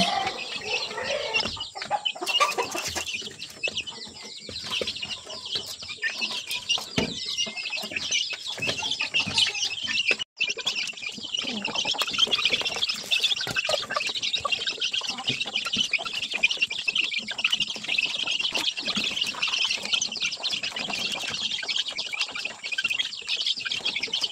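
One-month-old free-range chicks on a farm peep and cheep continuously in a dense, high-pitched chorus, steady and fairly close, with a few louder clucks mixed in.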